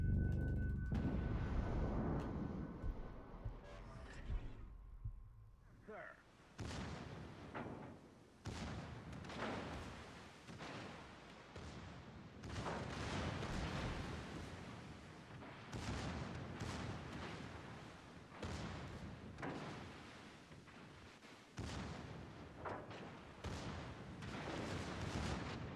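Heavy naval gun salvos from an American Tier 4 battleship in the video game World of Warships Legends, a series of loud booming blasts repeating throughout with rumbling tails and dense battle noise between shots.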